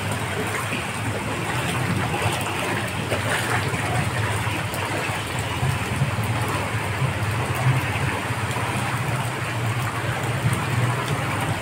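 A vehicle moves through a rain-flooded street, a low engine rumble and churning water under a continuous wash of rain, steady and fairly close throughout.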